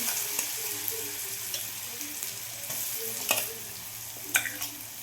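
Cumin, mustard seeds, chili paste and garlic-cumin paste sizzle and crackle in hot oil, a constant close frying hiss broken by a few sharp pops and stirring scrapes.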